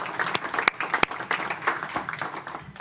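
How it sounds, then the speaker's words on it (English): A small audience at a railroad board committee meeting applauds, a short round of distinct, fairly close hand claps with a few sharper standout smacks. "round of applause for Jim and all his contributions to the railroad"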